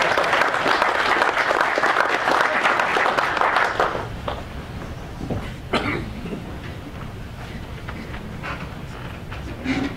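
A meeting audience at a golf-cart company's summer gathering breaks into dense clapping for about four seconds, then it thins to scattered claps, coughs and shuffling in the room.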